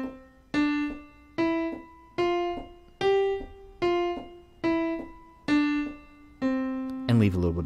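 Detached piano notes with short gaps of silence between them, about eight evenly spaced tones struck one at a time, close and clear, with a brief voice cutting in at the very end.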